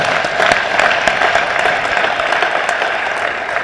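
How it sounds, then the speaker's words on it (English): Audience applause at an Ozark area racer reunion gathering, a loud, dense and sustained clapping from a crowd indoors, close and continuous with no pauses. "she deserves a round of applause just for that"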